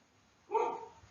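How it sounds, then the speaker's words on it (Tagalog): A dog barks once in the background, a short, moderately loud burst that fades quickly against a quiet room. "pasensya na sa mga aso kung naririnig nyo po sa background"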